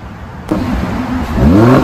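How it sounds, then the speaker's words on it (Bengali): A Chevrolet Corvette sports car engine revs close by, a steady idle rising into a strong, climbing rev near the end, with no voices. "সাউন্ডটা জাস্ট শুনুন, রেভ করলে কি অসাধারণ লাগে গাড়িটা"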